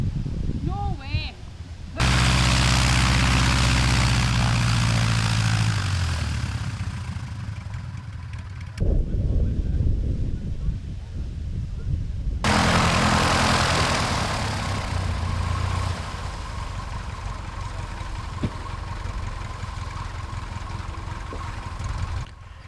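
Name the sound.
small propeller airplane taxiing at an airfield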